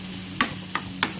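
Prawns frying in a pan for prawn fry, with three short scraping stirs over a faint steady sizzle.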